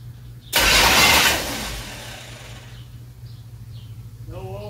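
A 1977 Chevy 350 V8 with a used cam and lifters cranks over loudly for about a second, then drops into a steadier, quieter mechanical whir with a constant low hum underneath.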